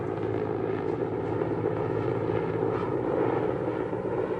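Aircraft engine drone, steady and loud throughout with a low rumbling core, fitting helicopters flying over a crowd in Casablanca during a violent crackdown; no speech heard.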